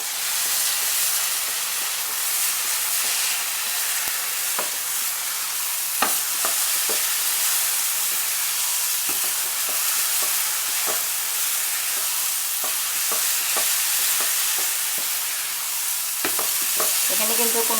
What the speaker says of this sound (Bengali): এই পর্যায়ে আমি এটাকে 3 থেকে 4 মিনিট ভালো করে নেড়ে এই পানিটা, চিনির রসটা শুকিয়ে নেব